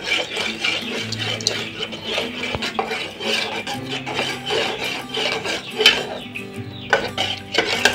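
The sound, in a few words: stirring rice flour and milk batter in a cooking pot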